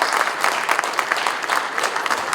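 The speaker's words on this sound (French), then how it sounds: "Nous applaudissons pour cet événement." An audience at a ceremony honouring a provincial governor claps steadily, a dense, fairly loud wash of many hands with no break over a couple of seconds.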